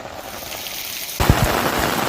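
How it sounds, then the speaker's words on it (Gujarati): Heavy monsoon rain in Vadodara, India hisses steadily, then grows suddenly louder and denser partway through, with a low rumble underneath. "2 દિવસ બાદ ફરી ધોધમાર વરસાદની શરૂઆત થઈ"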